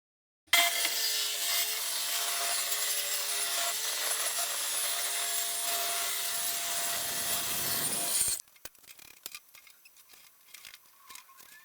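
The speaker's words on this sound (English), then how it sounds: "I need to cut this sheet of plywood down to 44 by 72" Power saw cutting a sheet of plywood down to size for a camper platform build, a loud, steady, close rasping cut lasting about eight seconds that stops abruptly, followed by faint knocks and handling sounds.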